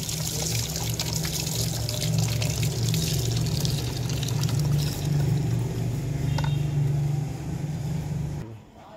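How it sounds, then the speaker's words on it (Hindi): Water pours steadily into a pot of whole masoor lentils and rice on a village stove, a continuous close splashing rush that stops abruptly near the end. "पानी इन्ना में पाया जिहदे ना दाल गल जाए।"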